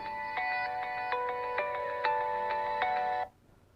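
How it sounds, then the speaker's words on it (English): A mobile phone ringtone plays on its own as a steady melodic tone pattern with a regular pulsing rhythm, close and moderately loud, then cuts off abruptly near the end. "my phone rang"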